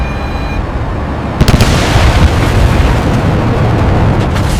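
A missile explodes against an aircraft with a loud, rumbling blast. A sharper burst follows a deep, continuous roar that fills the whole stretch.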